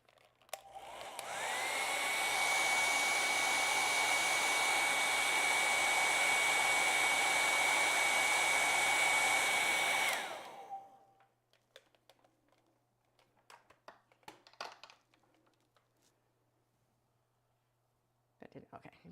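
Hair dryer blowing on wet acrylic paint, a loud steady whir lasting about ten seconds before switching off, followed by faint clicks and handling sounds.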